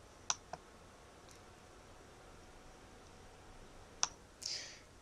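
Computer mouse clicks in a quiet room, a pair of sharp clicks near the start and another single click about four seconds later, followed by a brief soft rustle.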